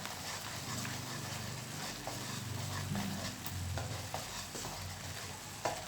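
Tamarind sauce cooking down with sugar in a pot is stirred steadily, giving a continuous soft scraping and bubbling sizzle that runs close and fairly loud throughout, with no talk over it.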